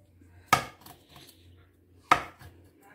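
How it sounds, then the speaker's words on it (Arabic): A knife cuts slits into a whole sea bream on a board, two sharp, close strikes about a second and a half apart with quiet between them. "هنا هنعمل شرايح كده في سمك الدنيس كده"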